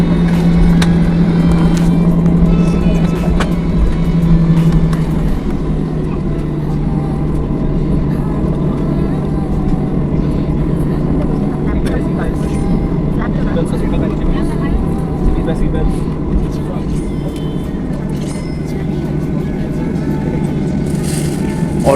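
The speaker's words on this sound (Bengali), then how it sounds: "অলরেডি রানওয়ে দিয়ে দৌড় শুরু করেছে আমাদের ফ্লাইট।" A passenger jet's engines roar at a steady loud drone as the plane accelerates down the runway for takeoff from Kolkata, heard from inside the cabin with a broad continuous rumble.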